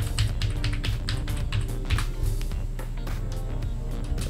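Fingers type a password on a computer keyboard, a steady run of close, crisp key taps with no voice over them.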